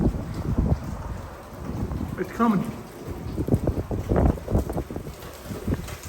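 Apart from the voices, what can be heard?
strong wind during Hurricane Milton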